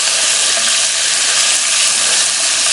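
Seasoned meat browning in a preheated Dutch oven, a loud close continuous sizzle and spatter that stays dense and steady without pause.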